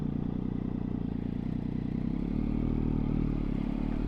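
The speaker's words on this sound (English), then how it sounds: "She appears to be running really well." A Triumph Daytona 675 motorcycle engine runs steadily with a dense, even mechanical rumble and clatter, close and loud throughout, rising slightly in intensity near the end.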